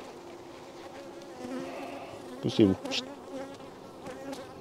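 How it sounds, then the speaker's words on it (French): Honeybees buzzing around a hive frame set on rosemary, a dense close swarm drone with individual bees flitting past, a brief louder burst midway and a person speaking quietly. "c'est plein d'abeilles dessus"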